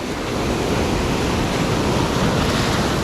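Waves on a lake wash past in a broad, steady roar of churning water mixed with wind noise on the microphone, close and continuous with no speech.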